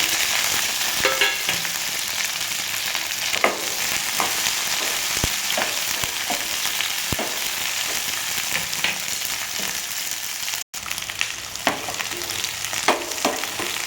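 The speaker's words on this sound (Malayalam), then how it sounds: "ചെറിയ ഉള്ളി ഒരുവിധം നന്നായി മൂത്ത് വരുമ്പോൾ നമ്മുടെ ഈ ചേരുവകളെല്ലാം ഇട്ട് കൊടുക്കാം" Shallots, ginger, garlic and green chili sizzle steadily in hot oil after mustard seeds, for an ash gourd and prawn curry, with faint stirring scrapes and clicks through the frying hiss.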